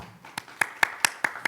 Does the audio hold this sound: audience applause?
yes